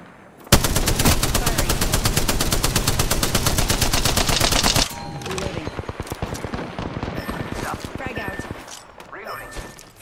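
Gunfire in Apex Legends rattles out in a fast, loud automatic burst lasting several seconds, then gives way to scattered, quieter shots and game sounds.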